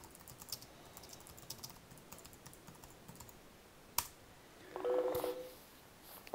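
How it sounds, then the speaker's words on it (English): Keys click softly on a computer keyboard as a chat message is typed, a faint irregular patter in a quiet room, with a sharp click and a brief tonal electronic beep near the end. "We also have private chat, which I'll type a message in here."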